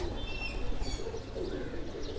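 Amber Sira pigeons cooing softly in a loft, low throaty coos rolling on over a steady background hum, with a few faint chirps above.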